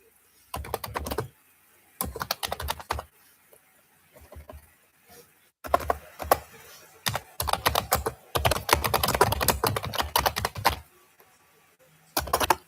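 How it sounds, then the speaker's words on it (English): Typing on a computer keyboard during an NBA play-building session: bursts of rapid, close clicking keystrokes separated by short pauses, fairly loud and with no speech over it. "I'm typing in names and things"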